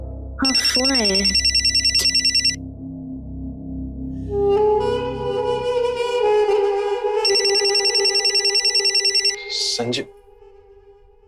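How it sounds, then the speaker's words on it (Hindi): A telephone rings loudly in a repeating electronic ringtone pattern, starting and stopping in several bursts, with a voice heard briefly between the rings. "हाँ, फोन आया है।"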